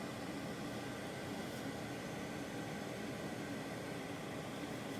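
An electric fan running with a smooth, even whoosh of white noise, steady and unchanging throughout at moderate volume, alone with no voices.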